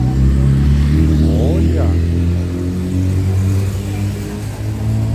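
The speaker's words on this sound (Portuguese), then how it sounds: "Top a moto esportiva." Sport motorcycle passing by on an evening street, a loud engine roar that surges and fades, with a person speaking briefly over it.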